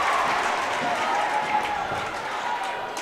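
Spectators at a girls high school basketball game cheer after a Mason layup, a lively roar with some clapping that swells and then eases slightly, with a commentator's voice partly over it.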